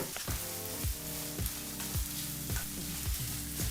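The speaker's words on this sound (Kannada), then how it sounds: "ಈಗ ಇಲ್ಲಿ ಈರುಳ್ಳಿನ ಮೂರು ನಿಮಿಷಗಳ ಕಾಲ ಮೀಡಿಯಂ ಫ್ಲೇಮಲ್ಲೇ ಫ್ರೈ ಮಾಡಾಯಿತು" Onions frying in a pan over a medium flame, a steady close sizzle with repeated stirring scrapes roughly every half second, no talking.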